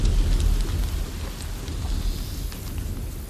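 A heavy night downpour over soldiers camped before a battle: a dense, continuous hiss of rain over a low rumble, fairly loud and unbroken.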